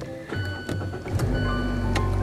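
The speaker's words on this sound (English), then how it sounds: "once I start the car, something up here is gonna pull up" A 2016 Mazda 6 i Grand Touring starts up. Brief clicks and a short whirring motor sound come from the dashboard display rising, then the engine settles into a low, steady hum, all close and fairly quiet.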